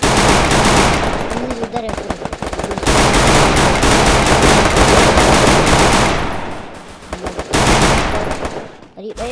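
Loud automatic gunfire in a shooting video game rattles in long rapid bursts with short gaps between them. A voice briefly cuts in near the end.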